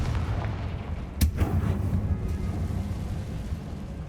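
A fiery Confringo spell blast in Hogwarts Legacy lands as one sharp, loud burst with a brief booming tail, set against a steady low rumble of game ambience.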